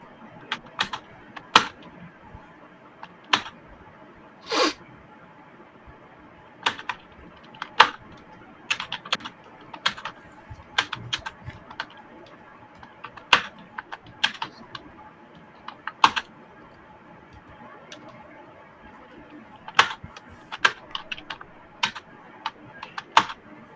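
Someone types on a computer keyboard in a quiet room, with irregular bursts of sharp key clicks and occasional pauses, fairly faint and close, with no talking.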